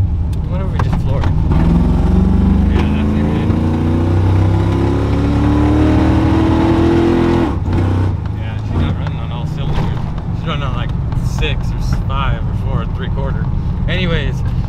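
A truck engine is floored and revs hard, its pitch climbing steadily for several seconds before the roar drops off. It stays loud and close throughout, with people talking over it.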